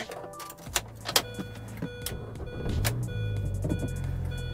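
Mini Cooper R50 started with the key: a few clicks and a whirring crank, then the engine catches and settles into a steady low idle, close by.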